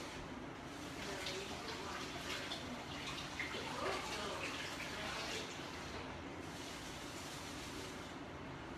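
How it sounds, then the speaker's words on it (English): Fresh parsley is rinsed under running tap water in a home kitchen, a continuous soft splashing hiss that stays even and fairly quiet throughout. "We're going to add some fresh parsley now. Rinse it off real quick."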